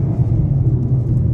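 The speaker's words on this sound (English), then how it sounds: "we'll try a second gear pull, see if there's any torque at all" A 2023 Kia Seltos LX AWD pulls hard in second gear, its engine a steady, loud low rumble that drones continuously with no voices over it.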